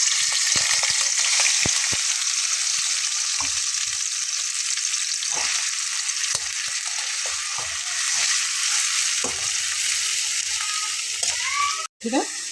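Half a teaspoon of black cumin seeds fries in hot oil for a bitter gourd curry with mustard paste. A loud, close, continuous sizzle carries occasional stirring scrapes and taps.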